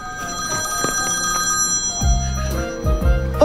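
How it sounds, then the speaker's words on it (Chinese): A mobile phone rings indoors, a steady electronic ringtone tone pattern repeating through the moment, with some low thumps and movement noises beneath it and no talking. "谁电话响啊？"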